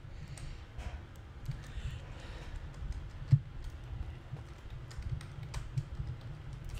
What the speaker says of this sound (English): Just keep clicking. Just keep on clicking F.